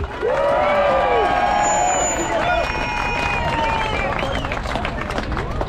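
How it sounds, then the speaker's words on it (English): Rally crowd at a peaceful gathering in George Square, cheering and whooping loudly with some clapping mixed in, a dense close roar with high shouts and whistle-like calls that carries on for several seconds. "Clap for that man, because he is no longer a sheep"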